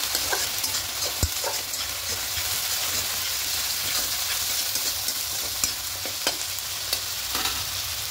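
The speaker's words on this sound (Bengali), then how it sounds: "আদা রসুন আর কাঁচা লঙ্কা পেস্ট এটাও দিয়ে দেবো। দিয়ে খুব ভালো করে একটু কষিয়ে দেবো" Ginger, garlic and green chili paste sizzles and fries steadily in a pan at moderate volume, with occasional stirring scrapes and taps over the continuous hiss, for a pomfret fish curry.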